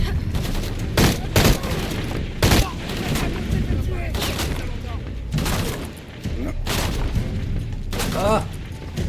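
Gunfire from the Shadow of the Tomb Raider video game: several loud separate shots and bursts spread across the clip, layered over game ambience with someone talking throughout.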